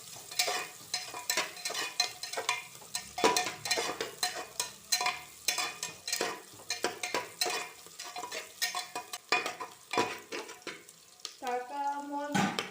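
Onions frying in a pan until golden brown, with rhythmic spatula scrapes and stirs over a light sizzle, close and busy, ending in a few clattering knocks.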